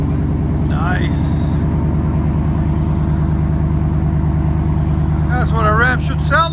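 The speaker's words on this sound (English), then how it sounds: "That's what a Ram should sound like. Nice deep idle." A 2016 Ram 2500 with a 6.4L HEMI V8 and Flowmaster Outlaw exhaust idles with a deep, loud, steady burble throughout, and a person speaks briefly over it near the start and again near the end.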